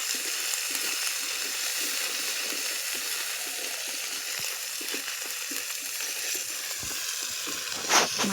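Steamed cabbage sizzles and fries steadily in a pan over a clay stove, a constant crackling hiss with scattered pops and soft stirring scrapes, close and even throughout with one brief louder clatter near the end.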